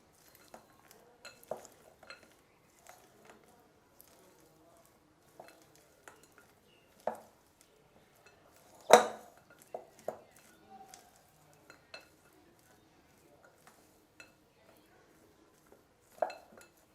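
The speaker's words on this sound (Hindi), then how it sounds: "अब बादाम पे डालेंगे हम मेल्टेड चॉकलेट। बिस्मिल्लाहिर्रहमानिर्रहीम। और स्पैचुला की मदद से मिक्स कर लेंगे।" A spatula mixing melted chocolate into almonds in a bowl, giving sparse light scraping and clinking taps with one sharper knock midway, quiet and close.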